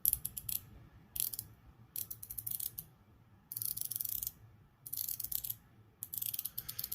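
A ratcheting unidirectional bezel on a Squale Militaire 1521 watch is turned in short bursts, each a quick run of fine, close clicks separated by brief pauses.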